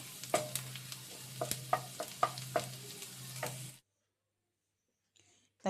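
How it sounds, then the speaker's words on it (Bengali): Chopped garlic sizzles in butter in a pan, a steady soft frying hiss broken by several spoon clicks and stirring taps. The sizzle cuts off abruptly, leaving near silence. "রসুনটা একটু বাটারের সাথে ভেজে নেবো"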